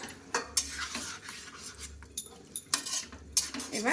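Curd being stirred into a dish in a pan: a spoon scrapes and clinks against the metal in repeated short strokes, close and fairly quiet, with no talking.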